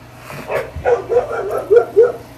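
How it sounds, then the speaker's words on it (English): A pet dog barks and yips in a rapid series of about six short, sharp barks from nearby, the calls bunching together toward the end. "If you can hear that, it's just my dog."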